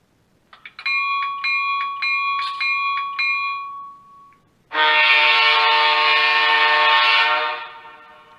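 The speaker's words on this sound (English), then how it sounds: "You can also ring the bell and blow the horn while the audio is muted." A small, tinny bell on an HO scale Bowser GMD SD40-2 model locomotive with LokSound rings in a steady repeating pattern, then a loud, sustained electronic horn blast follows, holding for several seconds before cutting off.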